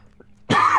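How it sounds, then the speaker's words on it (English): A single loud, harsh cough bursts in after a faint throat sound, close to the microphone and with no talk over it. "sorry about the coughing."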